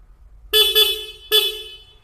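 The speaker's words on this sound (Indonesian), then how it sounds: "Terus untuk suara klakson" Horn of a Yamaha Vixion motorcycle, three short close beeps, the first two quick together and a third after a brief gap, over faint background hum.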